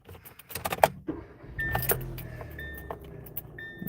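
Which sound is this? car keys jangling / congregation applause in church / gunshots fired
car keys jangling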